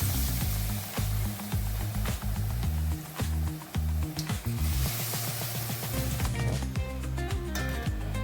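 Hyacinth bean vada frying in hot oil, a continuous sizzle running beneath loud rhythmic music that dominates throughout, with no talking.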